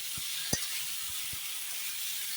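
Ridge gourd pieces frying in a pan, a soft, steady sizzle with a few quick low knocks from stirring early on.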